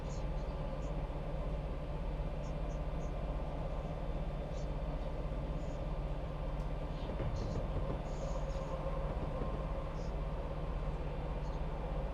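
Train rolling along the Midland Main Line between Derby and Nottingham in a Just Trains simulator, a steady rumbling clatter of wheels on track that stays level and continuous for the whole stretch.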